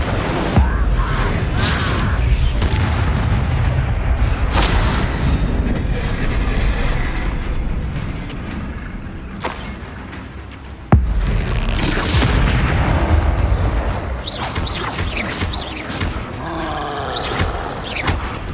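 Spell effects and magical blasts boom through a Hogwarts Legacy battle at a dragon nest, with loud explosive bursts and rumbling impacts layered densely over continuous game noise for the whole stretch.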